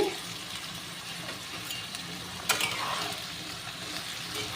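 Malabar spinach stems (pui mitchuri) frying in a pan, a quiet steady hiss and sizzle with one brief stirring scrape partway through.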